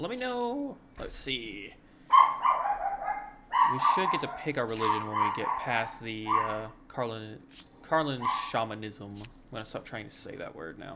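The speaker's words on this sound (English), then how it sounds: "I do apologize for the dog barking." A dog barks and yips intermittently in the background while someone talks continuously over it.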